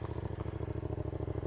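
A Yamaha FZ-07 motorcycle engine idles close by, with a steady, rapid low-pitched pulsing that holds an even rhythm throughout the short stretch.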